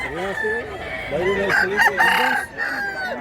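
A spangle stag, a young rooster, crowing up close in drawn-out, rising and falling calls, with other fowl clucking and calling in the background.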